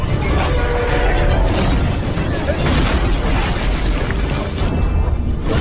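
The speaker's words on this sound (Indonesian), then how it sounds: "Akibat ledakan energi kekuatan barusan" Energy blast effect from an animated martial arts fantasy battle, a dense continuous roaring rumble with booming bursts that fills the whole stretch at high, steady loudness.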